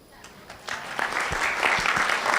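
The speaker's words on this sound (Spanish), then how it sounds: "Un aplauso." Applause from an audience at a management and happiness talk in Barranquilla, starting sparse and quickly swelling into steady clapping over a couple of seconds.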